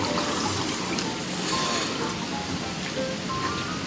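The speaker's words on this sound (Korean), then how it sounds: "폭포도 있고 폭포." A waterfall at a hot spring resort heard as a steady, dense rushing and splashing wash of water, continuous and fairly distant with no voices.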